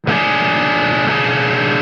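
A fuzz-distorted electric guitar chord through a Fortin Fuzz rings out, thick and buzzy, sustained for about two seconds before cutting off.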